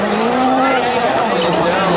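A Red Bull GRC rallycross race car accelerating hard during a heat stage at the Top Gear Festival in Barbados: a loud, near engine roar whose pitch climbs and holds, with a commentator talking excitedly over it.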